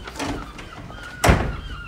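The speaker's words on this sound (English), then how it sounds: "Oh, I can open the door." A door in a block of flats opens with a single sharp thunk and clack, close by, against a low background of room noise.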